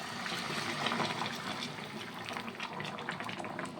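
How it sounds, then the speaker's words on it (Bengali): Hot water is poured into a cooking mixture in a pot, a steady close splashing and gushing liquid sound throughout with no talk. "এবারে জল দিয়ে দেবো গরম করে নিয়েছি গরম জলটা"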